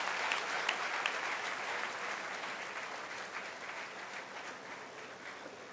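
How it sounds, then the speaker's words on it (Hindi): Thunderous audience applause at a book launch ceremony, a dense, sustained wash of clapping from a large crowd that holds steady throughout without voices standing out. "तालियों की घनघोर गड़गड़ाहट से साथ बाबा रामदेव को"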